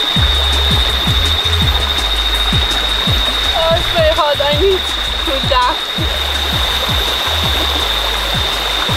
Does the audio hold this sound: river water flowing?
yes